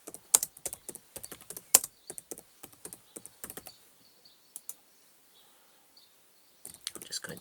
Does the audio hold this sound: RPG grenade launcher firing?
no